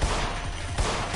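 Continuous gunfire in the video game In Sound Mind, heard as a dense, steady burst of shots filling the whole moment with no talk.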